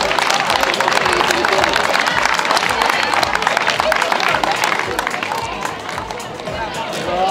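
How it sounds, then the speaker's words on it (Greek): Crowd applause and cheering ring out for a boys' 10–12 age-group jump winner at a 2024 para athletics meet, a dense, steady wash of clapping with murmuring voices that fades slightly toward the end. "Χειροκρότημα για τον κύριο Παπαδή."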